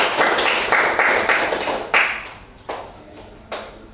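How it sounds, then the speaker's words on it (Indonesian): Schoolchildren in a classroom clap together for their teacher, a quick flurry of sharp, close claps that breaks into a few separate, ringing claps spaced out toward the end. "tepuk tangan dulu sekali lagi"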